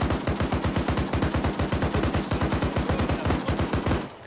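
Sustained automatic gunfire from the video game Arma 3 rattles in a steady, rapid, evenly spaced burst of loud shots that runs for about four seconds with no talking.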